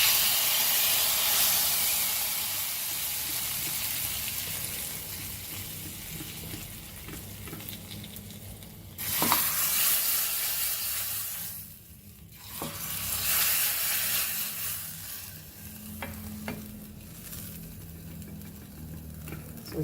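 A tadka for Goan drumstick curry sizzles loudly and steadily close by, with stirring clatter and a burst of sharper hissing midway as it is poured or stirred, and no talk.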